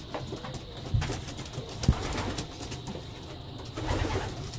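Low, muffled cooing from several breeding pigeons in a loft continues throughout, with a couple of sharp knocks partway through.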